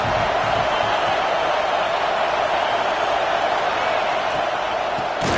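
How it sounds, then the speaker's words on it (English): A college football stadium crowd in the early going of a game against Florida State makes a steady, dense roar that holds at an even loudness throughout, with no break. "Listen to the crowd energy here in the early going."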